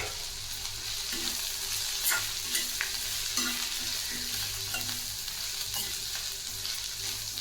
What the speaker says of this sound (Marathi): याला आपण 2 मिनिटं असं मिक्स करून घ्यायचं आहे